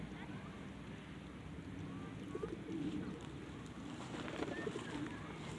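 Pigeons coo softly around the outside walls of a fort, low murmuring calls over steady wind and outdoor background noise, with no one speaking.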